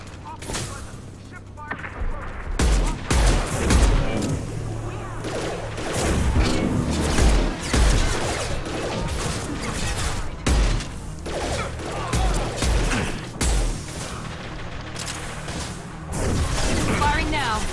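Gunfire in the video game Mass Effect 2, repeated sharp bursts and single shots in irregular clusters over game effects and background music, with voices talking at points.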